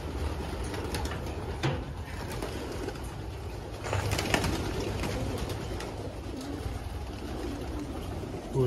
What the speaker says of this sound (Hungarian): hogy milyenek is a galambok